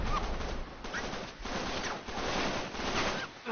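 Sniper gunfire rattles through a firefight in the video game Uncharted: Drake's Fortune, with several dense bursts of shots pulsing in quick succession and no voices.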